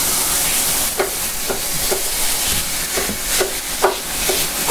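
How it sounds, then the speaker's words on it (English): Steady loud sizzling of ground venison frying in a pan, with regular scraping and stirring taps about every half second. "You can hear that sizzle."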